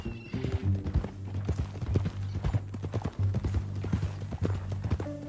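Horse hooves clip-clopping steadily at a walking pace in the western video game Red Dead Redemption 2, close and clear over a low ambient drone, with occasional faint voices.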